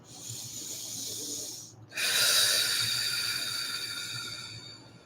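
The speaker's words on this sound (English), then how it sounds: "Maybe take a nice couple deep breaths." Deep breaths during a guided meditation: a slow, close inhale with airy hiss, a short pause, then a louder, longer exhale that trails off gradually.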